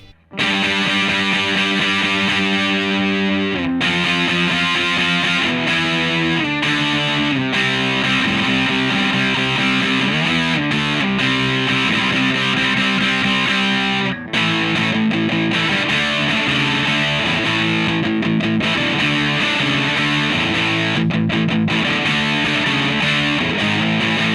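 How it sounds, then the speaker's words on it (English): Electric guitar played through a Boss DS-1 distortion pedal with the tone knob at neutral, giving a bright, buzzy punk tone; loud sustained distorted chords and riffs with short breaks between phrases, no talking. "with the tone knob in neutral, you're still going to get a pretty bright tone using the DS1"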